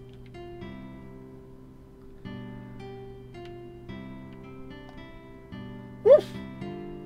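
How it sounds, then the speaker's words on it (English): A dog in the video game Exit Fate gives a single short bark near the end, rising over steady, layered game music that plays throughout. "Pet the dog."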